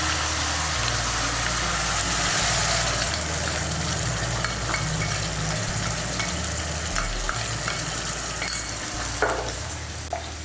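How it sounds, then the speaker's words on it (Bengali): Spice paste of chilli and coriander powder frying and being stirred in hot oil in a pan for cauliflower curry, a steady close sizzle with repeated scraping stirs throughout and no talk. "সমস্ত মশলাটাকে তেলের সঙ্গে মিশিয়ে নিয়ে মশলাটাকে কষিয়ে নেব।"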